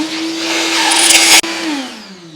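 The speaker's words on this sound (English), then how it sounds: "I'm going to spend a fair bit of time with the vacuum cleaner and some compressed air" A vacuum cleaner runs steadily and close by, sucking loose metal chips out of a Kia/Hyundai engine after a head bolt failure, its whine dipping briefly as the nozzle catches debris before settling back to a steady drone.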